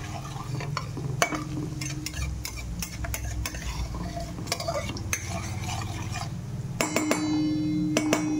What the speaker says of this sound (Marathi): तेल तापायला आल्यावर सगळ्यात अगोदर यात तीळ घालून घ्यायचे।